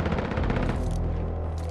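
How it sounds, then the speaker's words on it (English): Gunfire in the Call of Duty Warzone video game: a dense, loud, continuous stream of rapid shots and blasts that fades slightly toward the end. "Oh snap, they got a sniper up there."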